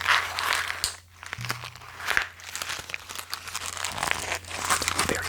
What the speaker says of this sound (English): when I crumple up this piece of paper